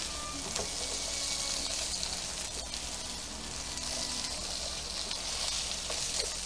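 Snow peas and other vegetables for a coconut curry fry in a hot pan with a steady, dense crackling sizzle throughout, close and unbroken.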